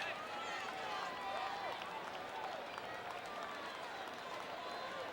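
Sparse applause from a small crowd after a home run at the 1988 Dodgers–Mets playoff game, faint scattered clapping under steady stadium murmur and a commentator's voice.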